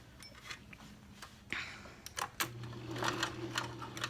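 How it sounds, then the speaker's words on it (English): Sewing machine basting pleats in place on a fabric face mask, running in short bursts with a steady mechanical whir, fairly close and moderately quiet, with no talking. "And then to the sewing machine."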